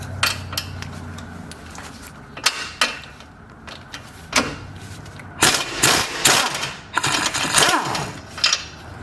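Ratchet turning a 19mm bolt out of a car's lower control arm, producing repeated bursts of clicking and metallic clatter in an irregular rhythm, close and fairly loud with pauses between strokes and no talk.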